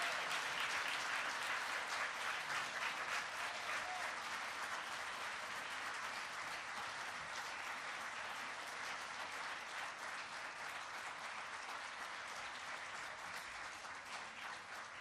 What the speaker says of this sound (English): let's clap loud so Delight can get out here